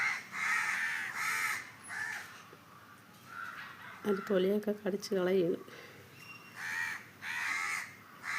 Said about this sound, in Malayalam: കാക്ക സമയം ഭയങ്കര കാക്ക കരച്ചിലായിരുന്നു